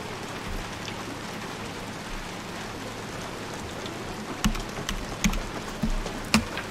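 Rain in the video game Hunt: Showdown: a steady hiss of rainfall on surfaces, with several sharper close drops or knocks standing out near the end.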